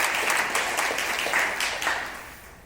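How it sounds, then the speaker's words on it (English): A conference audience applauds together in a steady, moderately loud burst of overlapping claps that gradually thins and fades toward the end, with no voices over it. "give yourselves a big round of applause"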